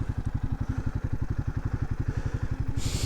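A motorcycle engine runs at a steady idle on a snow-blocked mountain road near Chala Dhar in Jammu and Kashmir, a close, even, rapid thumping pulse throughout.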